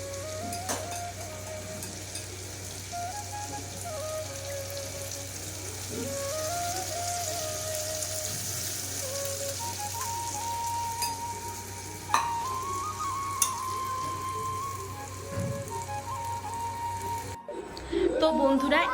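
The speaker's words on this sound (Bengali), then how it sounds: "এবার আমি টক জলটা দিয়ে দিই" Tamarind water is poured over sea fish, amudi and loitta, frying in oil, producing a steady low sizzle with scattered clinks of a utensil before it cuts off abruptly.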